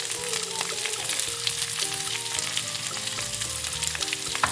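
Curry leaves hit hot oil with softening onions for South Indian lemon rice, giving a steady, close crackling sizzle that runs continuously with light stirring scrapes and no talk.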